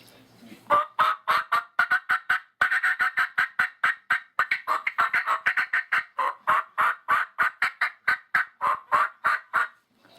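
A wild turkey hen's excited cackle imitated on a turkey call: a long, loud, rapid run of sharp, evenly spaced notes, close and alone with no talking.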